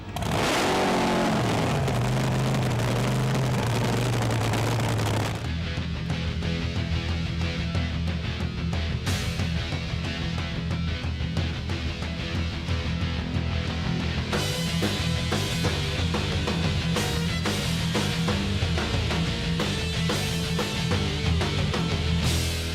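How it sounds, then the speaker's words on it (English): Loud race car engines roar and rev continuously, one dropping in pitch early on, then steady throaty engine noise with bursts of acceleration. "Streets are full, cars are hot, and engines are loud."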